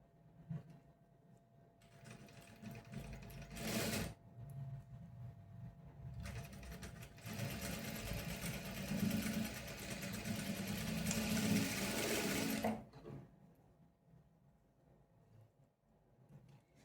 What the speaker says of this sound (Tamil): ஷோல்டர் சைடு இருந்து நான் ஸ்டிச் பண்ணிட்டு வரேன்.